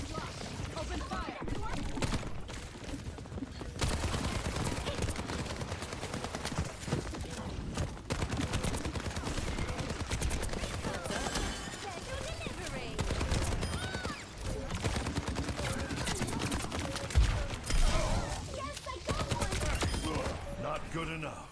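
Video game gunfire rattles in dense, continuous bursts across a busy, loud soundscape of a competitive round, with clattering shots and effects layered throughout and a voice heard over the action.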